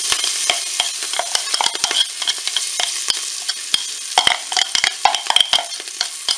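Parsley and garlic sizzle in a Cookeo pot on browning mode, giving a loud, steady crackle of hot oil with frequent sharp pops and spatters, close up and with no talking.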